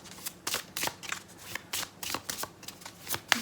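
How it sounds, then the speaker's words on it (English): A deck of playing cards is shuffled repeatedly, giving soft riffling and flicking bursts in a steady uneven rhythm, fairly quiet and close with no talking. "I could do that, pre-shuffle the cards."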